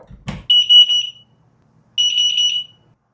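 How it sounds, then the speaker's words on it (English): A small door security alarm sounds two bursts of rapid, shrill electronic beeping, about half a second apart in onset, after a brief thump, with near silence between the bursts. "let's simulate the last alarm, which will beep, beep, beep until it's closed"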